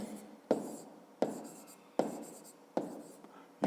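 Numbers being written by hand while working a fifth-grade math exercise on millimetres: five crisp, scratchy strokes at a steady, even pace, close and clear with no voices.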